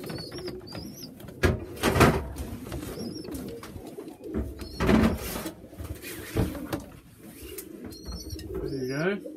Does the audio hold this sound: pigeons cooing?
yes